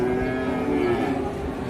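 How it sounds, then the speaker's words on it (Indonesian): A skinny white Sumba Ongole cow moos in one long, low, steady call, close by and fairly loud, with no voices. "ini sapi kurus lagi, sampai tulangnya kelihatan"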